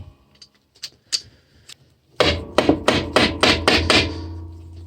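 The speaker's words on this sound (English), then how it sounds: "let me get this nut off" A nut is worked off the spindle of a Makita angle grinder during a teardown, a loud series of about seven sharp metallic knocks in a quick, fairly steady rhythm after a couple of seconds of faint light clinks.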